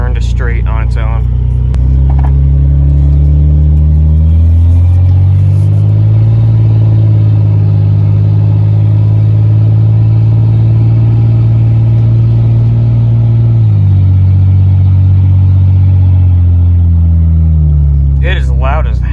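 Steady, loud engine drone from a cheap Ford F-150 pickup heard from inside the cab, a deep humming tone that rises and holds for several seconds, then settles back down, with a brief voice at the start and end.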